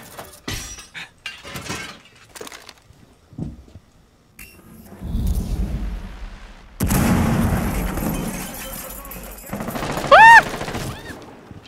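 Gunfire in Rainbow Six Siege, loud bursts of shots with glassy clinks and breaking, a sustained fusillade in the middle followed by sharp ringing impacts, with a voice talking early on.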